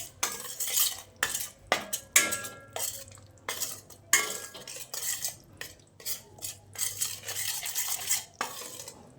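A spoon stirs sorghum flour roasting in ghee in a thick-bottomed kadhai over a low flame, making repeated close scraping strokes with metallic clinks in an uneven rhythm, alone without speech.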